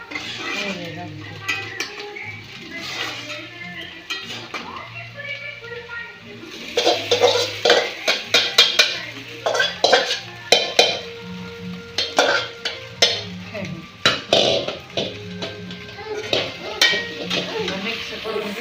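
A spoon stirs poha with fried onion in a frying pan, scraping and clinking against the metal in irregular bursts over a low sizzle, while someone talks intermittently.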